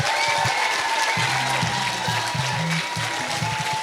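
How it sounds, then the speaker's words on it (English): A crowd claps steadily in sustained applause at a school awards ceremony, a dense patter of many hands, while faint music plays underneath. "we will honor you one more time with a nice round of applause"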